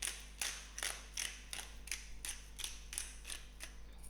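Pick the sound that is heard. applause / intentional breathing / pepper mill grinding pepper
pepper mill grinding pepper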